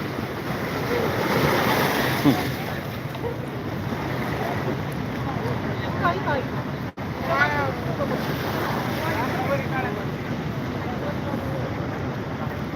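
Water waves at Manjara dam roll in as a continuous close wash of noise mixed with wind rumble on the microphone, while voices chatter over it.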